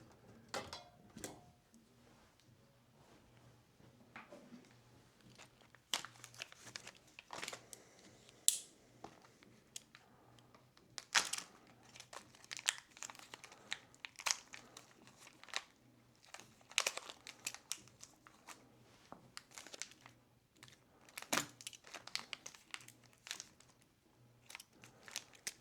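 A knife cuts and pries at a rubber RC car tire part, producing faint, close, irregular crunching and crinkling snips over a quiet background.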